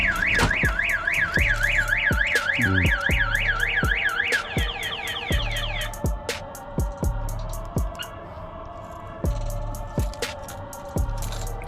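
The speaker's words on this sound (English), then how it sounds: "Still getting used to this alarm." A newly installed car alarm on a daily-driver car sounds loudly, cycling through a rapid warbling siren and then a series of sharp repeated chirps and tones, with no talking over it.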